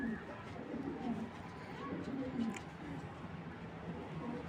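Racing pigeons of silver breeding coo in repeated low, soft rumbles, fairly faint and steady through the whole stretch, with a little talk in the background.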